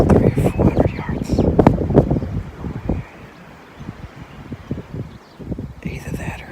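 Strong morning wind buffets the microphone during an outdoor hunt, a close, rumbling gust noise that is loud at first, eases in the middle and rises again, with someone talking over it.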